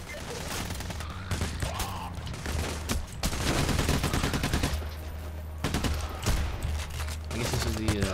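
Sustained covering gunfire in the heist shooter Payday rattles on almost continuously for several seconds, dense overlapping automatic bursts with brief dips, loud and close over a low steady background hum.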